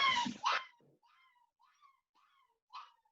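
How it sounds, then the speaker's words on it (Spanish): A dog whines and cries indoors, opening with a louder yelping outburst, then a string of faint, high, drawn-out whimpers with pauses between them. "Este ladra más, llora más que yo."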